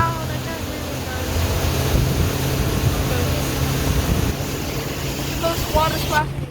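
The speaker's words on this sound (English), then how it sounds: "The engine's so loud, I can't hear you guys." A motorboat engine drones loudly and steadily throughout a boat ride on open water, with wind and water noise mixed in and a voice talking over the roar.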